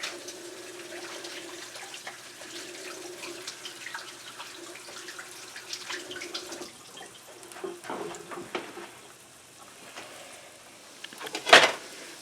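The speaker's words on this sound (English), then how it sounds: "Rinse my hands off." Kitchen tap running steadily while hands are rinsed during black bean burger prep, a soft continuous splash with small shifts as the hands move, ending in a louder clatter.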